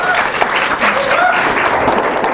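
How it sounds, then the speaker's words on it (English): Audience applause for a student at a coaching institute event, a short continuous burst of clapping from a crowd with faint voices mixed in. "Give her a round of applause."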